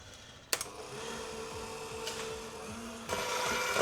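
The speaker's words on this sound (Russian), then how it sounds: "Начиная с маленьких оборотов, чтобы сгущенное молоко хорошо перемешалось со сливками." An electric mixer whips condensed milk with cream at low speed. A click starts a steady whirring motor hum that grows slightly louder toward the end, close by and with no speech.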